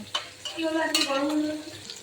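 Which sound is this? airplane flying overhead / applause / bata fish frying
bata fish frying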